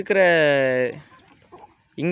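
Free-range country chickens on a grassy plot give a loud, close, drawn-out call, then quieter clucks, and another call begins at the end.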